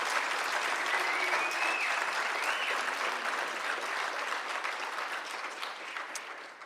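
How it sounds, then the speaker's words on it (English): A room full of people at an annual meeting applauding, steady dense clapping that holds throughout and tapers slightly at the end. "Let's give a round of applause for our therapy center."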